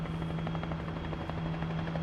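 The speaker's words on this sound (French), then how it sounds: "on entend le bruit d'un hélicoptère au loin." A helicopter far away, a faint steady rotor chop and hum holding even throughout at low level, with no talk.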